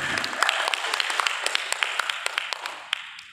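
Scattered applause from a small group, with individual claps standing out as sharp, uneven hits that gradually thin out toward the end.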